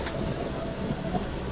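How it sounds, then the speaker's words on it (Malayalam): A Tirunelveli to Dadar train on Konkan Railway rolling past nearby, a dense steady rumble of wheels and carriages with faint clatter, loud and continuous for the whole moment. "തിരുനെൽവേലി ടു ദാദർ പോകുന്ന ട്രെയിനിന് വേണ്ടിയിട്ടാണ് നമ്മളിവിടെ പിടിച്ചു വെച്ച് ഇട്ടേക്കുന്നത്"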